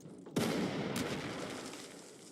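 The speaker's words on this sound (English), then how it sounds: "It's attack with artillery" Artillery fire in the WWII strategy game Panzer Corps 2, in a Poland 1939 battle: a heavy blast hits suddenly, followed about half a second later by a second shot, both trailing into a long rumbling decay.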